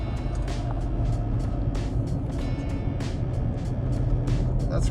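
A dually Toyota Tacoma truck drives off-road, its engine a continuous rumble with a series of sharp brief bursts of grit or spray striking, close and loud.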